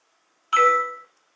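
A single bright electronic ding rings out from a Xiaomi smart home security kit as its alarm is armed, a short clean chime that decays over about half a second and then leaves silence.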